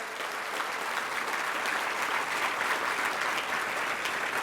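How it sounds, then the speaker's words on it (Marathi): Sustained applause from the crowd at a school's 53rd annual function in Dharashiv, a steady wash of many clapping hands heard at some distance and at even loudness throughout. "एकदा सगळ्यांनी जोरदार टाळ्या"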